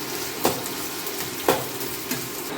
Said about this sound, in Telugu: ఇప్పుడైతే గంట తీసుకొని కలపాలి